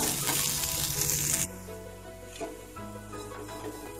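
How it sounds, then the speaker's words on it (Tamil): Chopped ginger sautés in hot oil for a mint pickle. A loud, bright sizzle fills the first second and a half, then drops to a quieter crackle with soft stirring scrapes. "அந்த எண்ணெயிலே வந்து இந்த இஞ்சியும் நல்லா வதக்கி எடுத்துக்கோங்க"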